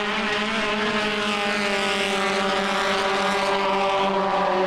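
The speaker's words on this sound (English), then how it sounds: "it's the red number 7 car of Mohit Aran who is leading" Formula 1600 (FF1600) single-seater race cars at the MRF Championship round in Chennai, a loud, sustained engine note at high revs that holds steady and rises slightly with no break.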